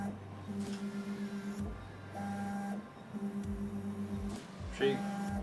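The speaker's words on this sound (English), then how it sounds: "I'm sure you guys are hearing the printer moving around really well" A 3D printer runs with its stepper motors whining in steady pitched tones that jump between notes in a repeating stop-start pattern, fairly quiet indoors over a faint background hum.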